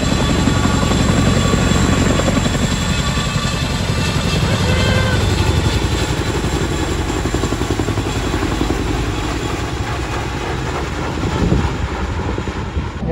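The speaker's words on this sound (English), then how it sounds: "Cameron, this helicopter is for you." A helicopter flies over a sailing boat at sea, its loud steady rotor thump and turbine whine continuing for over ten seconds with some wind buffeting on the microphone and no talk.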